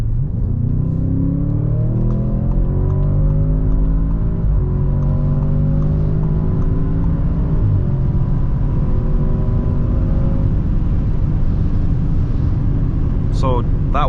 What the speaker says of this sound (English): You hear that engine and you hear the V8 grunt